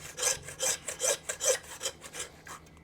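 A sharp hand saw cuts through a beef shank while preparing a Thor's hammer cut, giving about eight steady back-and-forth rasping strokes, close and moderately loud, with no talking.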